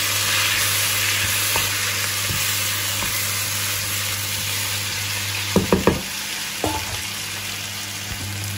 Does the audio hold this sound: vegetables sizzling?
yes